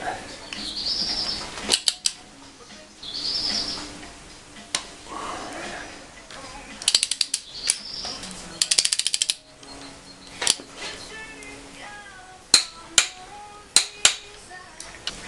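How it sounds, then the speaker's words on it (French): A ratchet wrench working on engine bolts of a 2000 BMW 530d E39 under rebuild, heard as bursts of rapid clicking ratchet pawl with metallic clinks and pauses between turns, fairly close and loud. "Alors maintenant on va desserrer d'un demi-tour."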